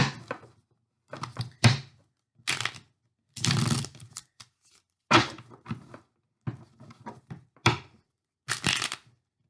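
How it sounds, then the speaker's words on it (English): Soft bursts of tarot cards being shuffled and riffled close by, in short irregular flurries separated by quiet pauses. "Let me just shuffle these cards a little bit."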